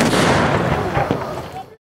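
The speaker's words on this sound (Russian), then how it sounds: "Пушки с пристани палили так, что захватывало дух и закладывало уши." Cannons fire from a pier during a historical battle reenactment, a loud booming blast that rolls off and fades over under two seconds.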